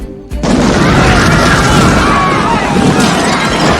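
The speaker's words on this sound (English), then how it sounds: "There are also great explosions in this movie," Explosions in a Tim Burton Batman movie: after a brief quieter moment, a sudden loud boom swells into a sustained roaring blast with crackling debris, filling the rest of the clip.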